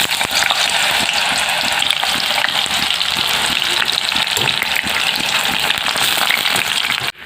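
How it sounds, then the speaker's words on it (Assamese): Raw banana slices sizzle as they fry in mustard oil in a wok, a loud, dense, steady crackle close by that holds evenly for several seconds before cutting off abruptly at the end. "মই ভাজিম"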